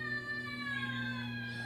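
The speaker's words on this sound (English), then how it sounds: "I've never seen cats that eat so much and that is always screaming" A hungry cat lets out one long, drawn-out yowl that holds steady and slides slightly, loud and close, with no talking.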